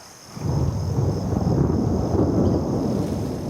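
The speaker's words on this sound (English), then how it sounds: "Thunderstorms and torrential rain now make each step precarious." Thunderstorm rumble with torrential rain on a jungle descent, a loud sustained roar that swells in after a brief quiet start and stays heavy and continuous throughout.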